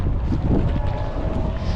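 Wind gusts buffet the microphone at the finish line of a women's Tour de France stage, a loud, rough rumbling roar throughout the short moment.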